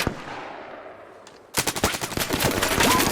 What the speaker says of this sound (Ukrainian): Бля, вони дуже сильно стріляють, там,